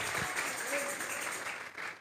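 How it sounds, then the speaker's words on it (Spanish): A church congregation applauds, a continuous patter of many hands clapping together under a voice speaking over it. "vamos a regalarle ofrenda de palmas al Dios de la gloria"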